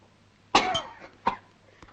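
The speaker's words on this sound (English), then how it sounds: "Cough it up." Coughing fit right after a sip of strong liquor taken as medicine in a 1941 British comedy film: a loud harsh cough burst, then a shorter second cough and a faint final hack, alone with no talk.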